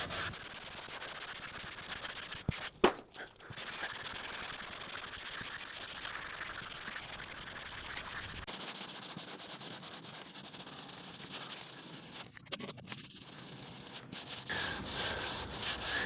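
A sanding block is worked by hand over a car body panel down to a body line, giving a continuous, close, rasping scrub with brief pauses and shifts in stroke direction.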